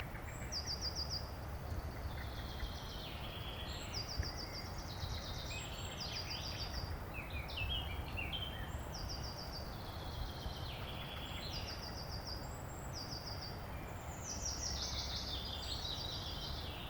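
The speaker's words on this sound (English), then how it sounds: "or listening to the birds chirp," Birds chirp and trill steadily through Swedish countryside woods, high repeated calls overlapping against a constant low outdoor rumble, fairly faint and unbroken by speech.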